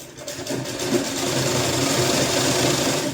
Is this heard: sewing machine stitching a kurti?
yes